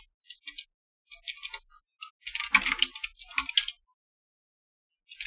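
Computer keyboard typing in bursts of quick, crisp key clicks with short pauses between them, close and fairly clear, no voices.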